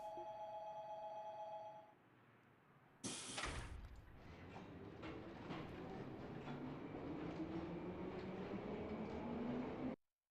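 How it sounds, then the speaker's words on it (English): A passenger train departs in the video game Trails from Zero: a sharp burst gives way to a low rumble and clatter that grows steadily louder and rises in pitch as the train picks up speed. "The train bound for the Republic is now departing."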